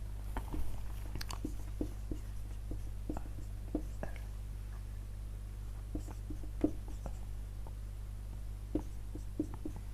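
Pen or pencil moves across paper in short, irregular strokes, close and quiet over a low steady hum, as a word is written out by hand during a reasoning lesson on coding and decoding.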